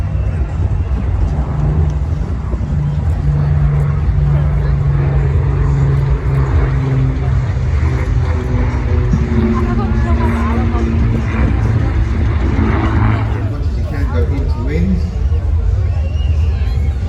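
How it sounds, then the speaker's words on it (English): Lancaster bomber and Spitfire of the Battle of Britain Memorial Flight, four Merlin engines and one Griffon, flying over the International Ayr Festival, a loud continuous droning engine roar with crowd chatter throughout. "that's the Lancaster bomber and the Spitfire. 4 Merlins and 1 Griffin engine from the Battle of Britain Memorial Flight."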